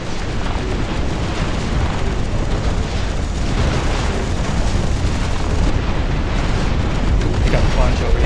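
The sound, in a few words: artillery explosions in the RTS video game Dust Front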